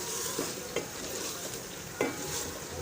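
Potato and spinach sabzi stir-fries in oil, a quiet continuous sizzle broken by three or four sharp spatula knocks and scrapes against the pan, heard up close without talk.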